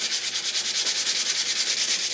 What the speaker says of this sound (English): So keep sanding to get all of that off